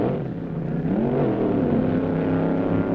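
A vintage 1950s–60s slingshot dragster with a 1957 Chrysler engine roars down the strip on a drag racing trophy run, a dense, steady engine drone that rises slightly in pitch, loud and continuous.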